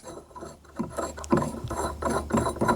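A bolt is driven and tightened through a wooden archery draw board in a home workshop, giving repeated ratcheting, grinding clicks in short bursts with scraping wood contact, fairly close.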